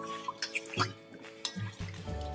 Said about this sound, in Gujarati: એનું પલ્પ લઈ લીધું છે, અને ઠંડા પાણીમાં મિક્સ કરી દેશું